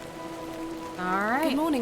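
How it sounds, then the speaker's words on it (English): Rain in the video game The Excavation of Hob's Barrow falls as a faint, even patter, with a sustained tone and a voice speaking over it partway through. "A little rain is no bother."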